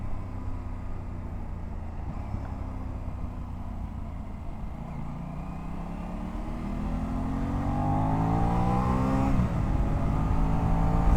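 A 2025 Aprilia RS 660 motorcycle accelerates under throttle, its engine note sweeping upward through gears with quick-shifter changes, the pitch climbing and resetting in smooth steps as the sound grows steadily louder toward the end.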